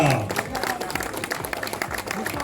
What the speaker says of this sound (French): Merci une nouvelle fois de réitérer vos applaudissements.